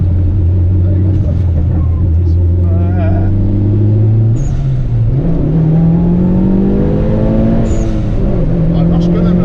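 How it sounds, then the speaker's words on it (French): A Mitsubishi Lancer Evo, tied to Paul Walker, on the Nürburgring: the engine revs hard, close and loud, its pitch climbing steadily toward the rev limiter, with a brief dip and a fresh climb partway through. "Elle monte au rupteur, elle en veut pas."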